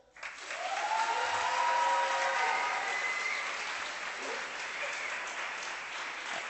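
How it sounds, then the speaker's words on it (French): Sustained applause from a large student audience at a humanitarian project awards final, rising fast into a dense, even roar of clapping with a whistle-like tone early on, then easing slightly but continuing to the end. "je vous demande un tonnerre d'applaudissements"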